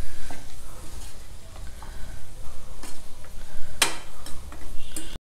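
Spices including chili powder, salt, clove, cinnamon and dry mango powder are stirred in a pan, giving a close, loud scraping and light sizzling with a few sharp utensil clicks.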